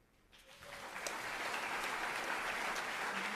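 Applause for new employees at a university convocation, a steady wash of clapping from an audience that swells quickly and holds, heard at a moderate distance.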